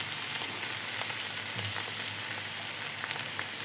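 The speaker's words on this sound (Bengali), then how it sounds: "লবণ দিয়ে আরো কিছুক্ষণ নাড়াচাড়া করতে থাকো" Raw jackfruit curry sizzles evenly in a pan after salt goes in, a dense, constant frying hiss with faint stirring underneath.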